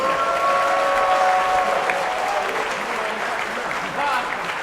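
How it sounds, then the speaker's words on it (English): A crowd at a boxing event at the Hard Rock Hotel on Daytona Beach, Florida, applauds both fighters with a steady wash of clapping, with a voice talking over it. "let's have a nice round of applause for both fighters"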